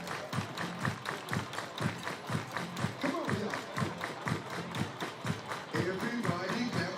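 A baseball crowd at a summer-league playoff game claps hands in a steady, evenly spaced rhythm, with scattered voices and a brief spoken call mixed in under the beat.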